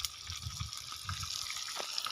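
Water runs into a bowl with a soft, uneven trickle and splash that rises and falls, heard close but fairly quiet, with no voices.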